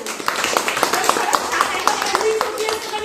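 A school audience gives a short round of applause for two students, quick scattered claps under a continuing voice.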